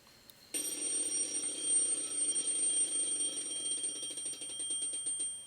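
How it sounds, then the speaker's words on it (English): An alarm clock in a visual novel game suddenly starts ringing and keeps going in a loud, continuous, bright trilling ring until the end, with no speech. "I shut off the alarm by reflex."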